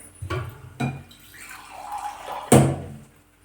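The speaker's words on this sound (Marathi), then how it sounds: "थोडंसं पाणी टाकणार आहोत आपण" Water poured from a vessel into a pan holding jaggery, a few short splashy pours and trickles followed by a louder splash near the end, close by with no talk.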